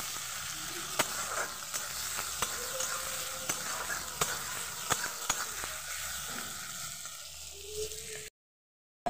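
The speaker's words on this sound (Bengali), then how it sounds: "পেঁয়াজটা ভাজা হচ্ছে" Chopped onion fries in hot oil with whole garam masala for a chicken and potato curry, a close, steady sizzle broken by stirring scrapes and knocks, then abrupt silence.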